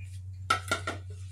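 Tofu being stirred in a cooking pan gives three quick metallic scrapes and clinks of a utensil against the pan, close by over a steady low hum.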